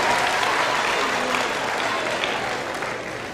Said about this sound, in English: Round of applause for these 3 guys.